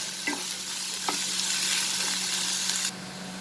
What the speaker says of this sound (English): Saute this till the onions get slightly cooked.